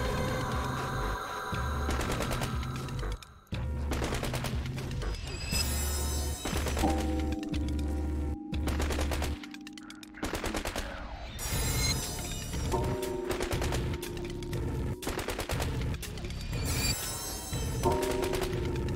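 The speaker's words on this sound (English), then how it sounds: "Use the left mouse button to shoot spectral bullets." Spectral bullets fire in the video game Nowhere, MI, rapid bursts of loud electronic gunfire with mechanical clanks and tonal blasts over a droning game soundtrack.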